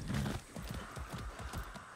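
Steady rhythmic hoofbeats of a galloping horse in Far Cry 6, with a brief whinny-like sound at the start, moderately quiet and without talk.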